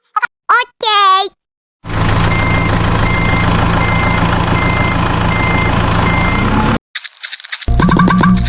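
A toy model truck's reversing beeper sounds as a loud, steady electronic tone over a whirring motor for several seconds, with short bursts of a voice just before and after.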